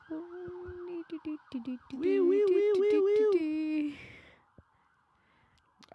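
A wailing police or ambulance siren in a city street rises and falls loudly nearby for a few seconds, then cuts off into near silence.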